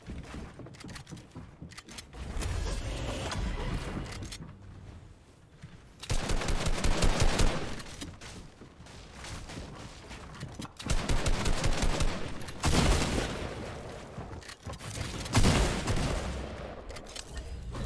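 Rapid automatic gunfire from the video game Fortnite comes in several loud sustained bursts, separated by brief gaps filled with mechanical clatter and building sounds.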